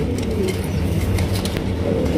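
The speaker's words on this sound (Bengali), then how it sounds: "একদম বড় সাইজের কিং কবুতর, দেন ফ্রেশ কবুতর" Large king pigeons coo softly and repeatedly close by, their low rolling calls layered over a steady background rumble with scattered rustling.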